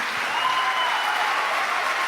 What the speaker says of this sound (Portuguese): Quero que vocês aplaudam com muita alegria